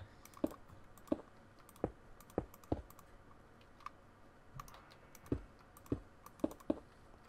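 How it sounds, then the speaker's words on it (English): Computer mouse or keyboard clicks while playing Minecraft, a series of quick, crisp taps in irregular bursts, close and fairly quiet with no talking. "You're clicking like a maniac."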